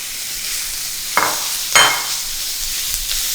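Chopped Smithfield bacon, about half a pack, frying in a pan with a steady sizzle, broken by two louder stirring scrapes and a fainter one near the end.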